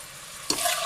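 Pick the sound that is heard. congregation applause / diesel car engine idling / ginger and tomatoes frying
ginger and tomatoes frying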